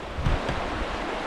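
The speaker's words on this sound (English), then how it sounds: "So there's the river." The fast-running East Fork Carson River near Hangmans Bridge in California gives a steady nearby rushing wash, with low wind buffeting on the microphone and a couple of brief surges.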